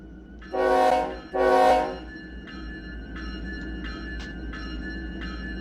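A train in the video game The Express sounds two loud horn blasts, then rumbles along steadily with faint repeated tonal chimes over the running noise.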